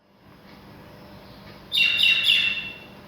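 Birds outside a house chirp in a quick burst of bright tweets midway, heard over faint background hum.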